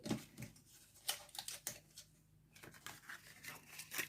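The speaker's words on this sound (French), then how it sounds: "je vais marquer tous les plis" Paper being creased and folded by hand for a small Easter basket, a quick series of soft crisp scrapes and presses heard close and quiet, with short pauses between strokes.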